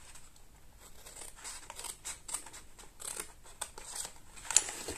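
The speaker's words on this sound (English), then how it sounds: "So you can cut up to the first horizontal line." Scissors snip through paper card for a floral gift box, a quiet run of steady close cuts with a slightly sharper snip near the end and no talking.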